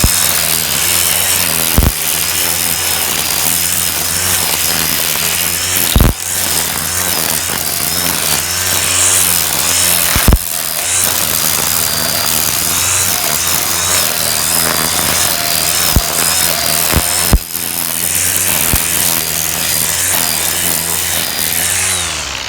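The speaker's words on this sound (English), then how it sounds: "let's move on to some trimming" A Black+Decker 20V MAX cordless string trimmer with command feed cutting grass, a loud, close, continuous high-pitched motor whine with a steady buzzing line, broken by a few brief clicks and snaps as the line strikes material.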